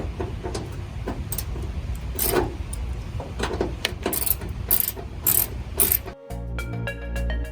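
A ratchet clicks rapidly in repeated short strokes while unscrewing bolts on a 1992 Ford F150, close and crisp, ending in a steady rhythmic ratcheting run.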